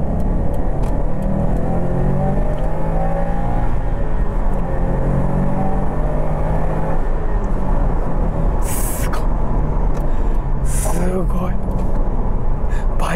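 Subaru WRX STI Final Edition with its EJ20 engine, a rev-happy motor peaking at high rpm, accelerating under throttle with rising harmonic engine note and rumble, while a person talks over it.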